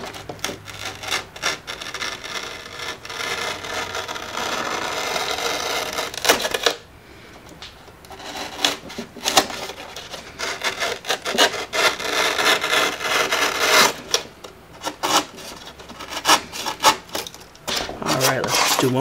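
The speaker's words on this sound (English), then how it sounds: "we're going to go ahead and cut right along here." A blade cuts through foam board for an FT Warthog A-10 model airplane, close, with long scraping and rasping strokes broken by short pauses and handling noises.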